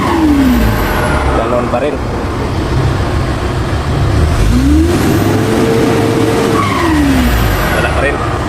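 A Hino 500 series truck with low power and hard starting cranks and revs, its engine rising and falling in repeated surges that never climb high, while people talk nearby.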